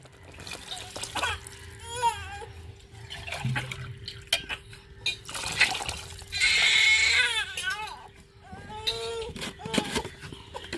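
Water is poured into a pan while tomato rice is cooked, a faint, soft trickle in short bursts beneath a steady hum, with a baby's cries rising and falling in the background.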